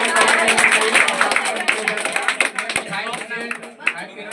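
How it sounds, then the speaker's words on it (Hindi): An audience claps steadily and densely at a village prize ceremony for board exam results, and a voice speaks over the applause throughout. "ताली जबरदस्त बजाइए"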